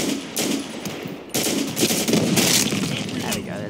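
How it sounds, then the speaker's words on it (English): Gunfire in the Black Squad video game landing a one-shot headshot, a loud burst of rapid shots with a sharp crack partway through, steady and close amid continuous game noise. "There's a headshot. One shot, one kill."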